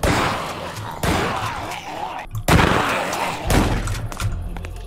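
Shotgun blasts aimed at zombies in a hardcore Minecraft zombie apocalypse, several loud booming shots spaced unevenly across the stretch, each a heavy thump over a steady game-sound background.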